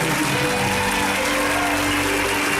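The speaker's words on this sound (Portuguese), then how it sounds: "aplaudissem a Deus bem forte, bem alegre" A church congregation claps loudly and steadily throughout, a dense wash of many hands filling the room with no pauses.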